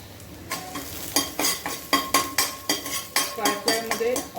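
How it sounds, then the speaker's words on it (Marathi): Garlic and green chili frying in oil for fenugreek bhaji, a constant sizzle under a rhythmic series of about a dozen sharp spatula scrapes against the pan. "लसूण चांगली थोडीशी ब्राऊन कलर चांगली अशी भाजून घेणार आहे आणि मिरची पण टाकायची."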